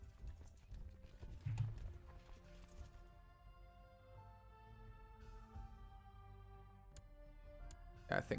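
Horses in the Crusader Kings II video game, a quiet steady clip-clop of hooves over a low rumbling game soundtrack, faint and continuous throughout.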